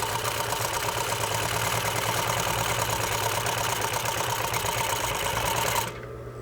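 A sewing machine runs steadily, stitching fabric around a curved seam, with a continuous, even mechanical hum and rapid needle chatter that drops off abruptly near the end.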